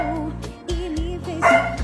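A small dog gives a few short barks and yips close by in a home, the barks breaking through a steady hum with a louder bark near the end.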